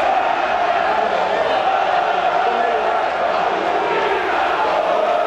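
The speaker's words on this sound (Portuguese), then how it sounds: "A festa foi da torcida galista nas dependências do Limeirão." Galo supporters of Independente celebrate at Limeirão stadium after a 1–0 derby win, a dense, steady roar of crowd shouting and cheering that holds loud throughout without letup.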